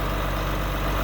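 A John Deere 4250 tractor's engine runs loud and close during a hard cold start, a dense, steady low rumble with a continuous mechanical clatter throughout.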